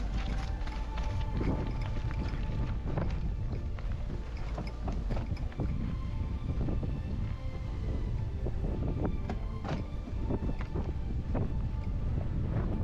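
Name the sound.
strong wind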